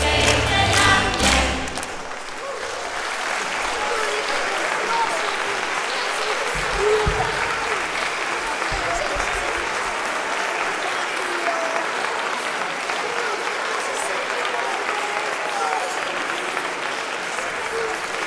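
A concert crowd claps hands in a dense, sustained wash of applause that carries on steadily for many seconds after a brief burst of louder noise at the start, with voices mixed faintly into the crowd.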